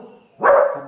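A dog at a house window, one of two neighbourhood dogs, gives a single loud, close bark after a moment of quieter background sound.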